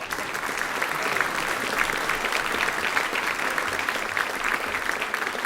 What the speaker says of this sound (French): Allez, on l'applaudit, monsieur le maire.